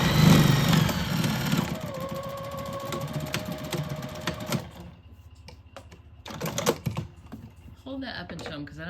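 A sewing machine stitches a fabric jar bonnet back and forth, whirring in short bursts with pauses between passes, while people talk nearby.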